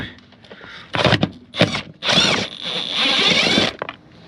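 Socket wrench with a 10 mm deep socket loosening a bolt on a Ford Bronco Sport during an evap canister replacement: several short bursts of rapid ratcheting clicks separated by pauses, close and fairly loud.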